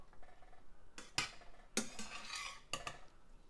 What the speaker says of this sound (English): let me mix this together and then we'll plate it